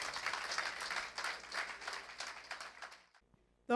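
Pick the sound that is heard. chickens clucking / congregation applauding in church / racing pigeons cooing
congregation applauding in church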